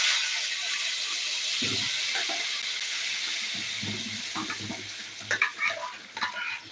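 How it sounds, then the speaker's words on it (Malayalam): Liquid poured into hot oil and ghee in a pan sets off a loud, sustained sizzling hiss, with a few lower bubbling bursts and sputters as the frying settles near the end. "നമുക്കതിലേക്ക് ഒഴിച്ചു കൊടുക്കാം"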